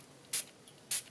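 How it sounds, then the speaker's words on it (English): Spray bottle spritzing water onto Brusho powder for stamping, two short bright hissing spritzes about half a second apart, close and quiet against a faint room background. "spritz a little bit more"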